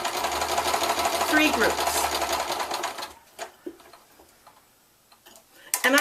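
A sewing machine stitching quilt pieces, running in a steady rapid ticking chatter for about three seconds and then stopping, followed by quiet handling noises and brief speech.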